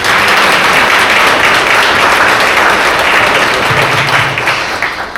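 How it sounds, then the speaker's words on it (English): An audience at an association installation ceremony gives a loud, sustained round of applause, dense and even, beginning to taper off near the end. "So all of us deserve a round of applause for that"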